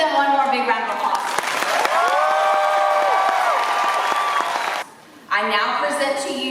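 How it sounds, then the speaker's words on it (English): Audience applause and cheering at the Fort Worth Academy of Fine Arts class of 2021 graduation ceremony, a dense sustained roar of clapping with a tonal whistle-like sweep through the middle, briefly cutting out near the end before resuming. "Let's give them one more big round of applause."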